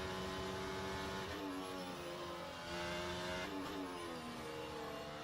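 Onboard race car engine from a Formula 1–style sim racing game at the Japanese Grand Prix, a steady high-pitched whine with rising and falling revs through gear changes, loud and continuous with no talk.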